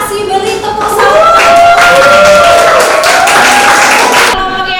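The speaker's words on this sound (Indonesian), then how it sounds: "Beri tepuk tangan." A classroom group applauds after a hydrostatics experiment presentation, a loud burst of clapping close by that runs for several seconds, with a sustained tone sounding underneath, before it cuts off abruptly.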